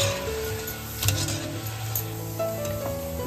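Boras fry in hot oil the way gulab jamun are fried, a continuous close sizzle with small crackles and faint stirring sounds.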